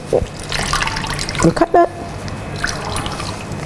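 Juice drips and trickles from wrung-out pulp while making an immune-boosting detox juice, a few brief wet splashes and drips close by, with a person talking briefly over them.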